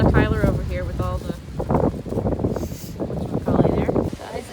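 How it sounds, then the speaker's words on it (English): Strong wind at a foggy beach buffets the microphone with low rumbling gusts, running under close, nearly constant talk from people nearby. "It's freaking windy."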